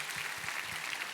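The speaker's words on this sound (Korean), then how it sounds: "우리 하나님께 감사와 영광의 박수 올려드리겠습니다." A church congregation at a Sunday worship service claps steadily, a dense, even wash of many hands heard at moderate distance with no voices.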